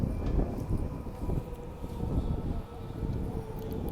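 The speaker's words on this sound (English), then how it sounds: "the Midland line A series driving into platform 2 here" A Midland line A-series train pulls into platform 2 at a suburban station, a steady low rumble of wheels and motors with wind buffeting, fairly close and continuous with no talking.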